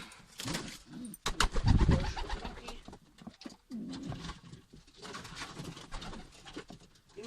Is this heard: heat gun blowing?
no